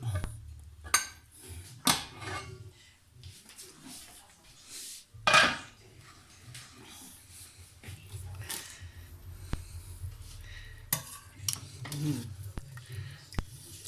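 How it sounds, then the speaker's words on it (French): A lid comes off a pot of slow-cooked beef with carrots, giving several sharp metallic clanks and scrapes spread across the clip, with soft clatter and a quiet background in between. "Donc maintenant j'enlève le couvercle."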